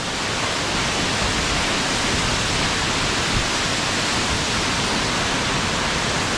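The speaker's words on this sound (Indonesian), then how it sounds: "ini saya tepat berada di bawah air terjun Jumok" The Jumog waterfall in Karanganyar pours down in a dense, steady roar of falling water, broad and unbroken, heard up close from right beneath the falls.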